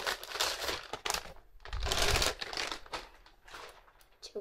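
Plastic bag and triple-layered bubble wrap packaging around a handbag being handled, crinkling and rustling loudly up close in irregular bursts, with a heavier crushing stretch in the middle and no voices.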